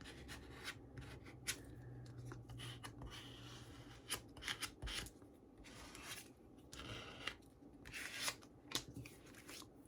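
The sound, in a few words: card burnishing paper journal folio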